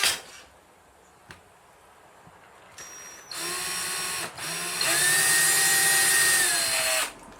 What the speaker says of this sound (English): the first thing I'm going to do is actually drill a hole